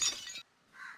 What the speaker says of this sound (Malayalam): ചട്ടി പൊട്ടി.